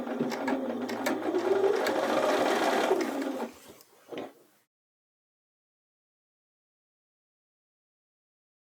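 A sewing machine runs steadily for about three and a half seconds top stitching the hems of a pair of pants, then slows and stops, with one brief final burst before silence.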